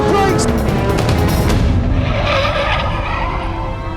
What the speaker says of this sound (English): I was in the wrong gear and I span.